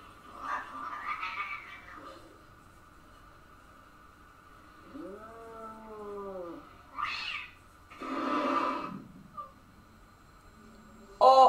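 A cat on a Stranger Things episode gives a drawn-out, wavering meow midway, set among scattered short bursts of other sound and faint background noise.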